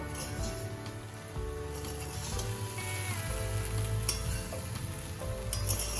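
Fried rice being stirred in a pan with crushed cardamom, cloves and cinnamon, a steady nearby sizzle broken by utensil scrapes and clinks, with soft background music underneath.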